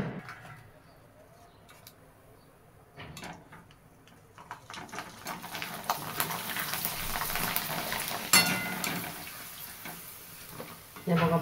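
Steamed rice papad made from ration rice frying in hot oil, a steady sizzling hiss that builds from quiet to loud and bubbly over several seconds, close by.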